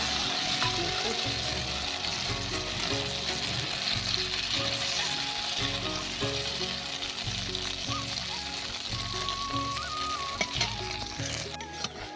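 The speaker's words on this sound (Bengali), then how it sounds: "তেল দিয়ে দিয়েছি, গরম হয়ে গেছে তেল। এবার আমি বড়া করার জন্য" Bora fritters fry in hot oil with a loud, continuous sizzle and bubbling hiss close by, while a faint rhythmic thumping and some background noise run underneath.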